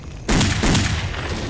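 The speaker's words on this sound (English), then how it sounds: "Sir, we are taking fire from the tunnel." A sudden loud burst of automatic gunfire from the Counter-Strike: Condition Zero Deleted Scenes motorcade assault, kicking in abruptly and sustaining as a dense, continuous volley.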